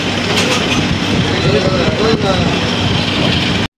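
A train rumbles along the rails with a loud, steady roar and faint rhythmic clatter, heard from inside the carriage until it cuts off.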